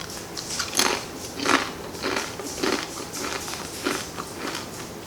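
Crisp bites and crunchy chewing while tasting homemade taqueria-style green salsa, a series of close, moderately loud crackling crunches repeating at an irregular pace, with no talking.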